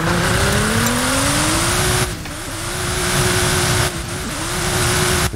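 A Nissan Z sports car engine drones and rises through the gears in the video game Forza Horizon 5, its exhaust note climbing in pitch, dropping at two abrupt shifts, then climbing again.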